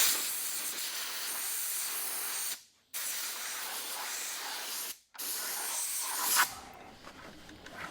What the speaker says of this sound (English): Apparently we're gonna spray a mass quantity of brake cleaner.